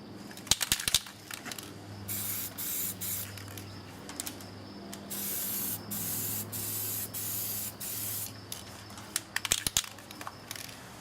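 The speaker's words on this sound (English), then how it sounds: "give it a test spray, apply one more coat of base" An aerosol spray paint can applies a base coat during car scratch repair, giving a close, steady hiss in several bursts separated by short breaks, with sharp clicks and rattles of the can at the start and end.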